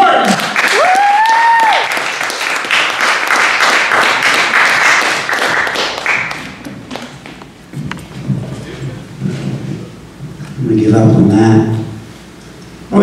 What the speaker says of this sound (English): a big round of applause for Chris Martin